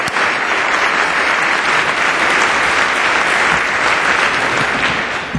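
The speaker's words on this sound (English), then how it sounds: "Let's give all those folks that have made this such a wonderful evening a round of applause." A dinner audience breaks into a full, sustained round of applause, dense and loud throughout, fading slightly at the very end.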